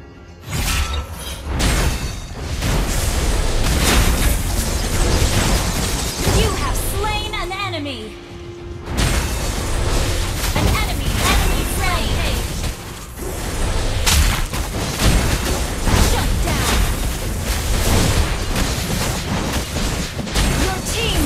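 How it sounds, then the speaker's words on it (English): A turret is destroyed in a video game, setting off loud booming explosions with shattering, crashing debris and whooshes, a dense, continuous barrage over about twenty seconds, with voices mixed in. "Destroyed a turret!"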